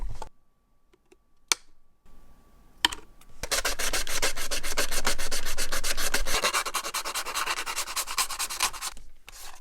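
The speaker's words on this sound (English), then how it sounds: "we'll just use the sandpaper to shape them" Sandpaper shaping a trimmed RC Jeep JLU body for an SCX24 crawler, after a few light taps, sets into a rapid back-and-forth rasping scrub, close and fairly loud, that runs for several seconds with a brief pause.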